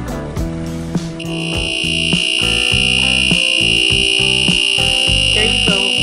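A loud, steady electronic alarm from an electric egg cooker buzzes continuously over clattering and bubbling noises, holding for several seconds without a break.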